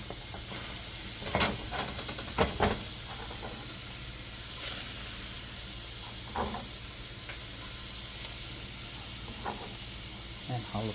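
Onions and jalapeños hit a hot pan while cooking ramen with steak, giving a steady hiss with a few louder scraping bursts as they are stirred. The sizzle stays fairly soft throughout.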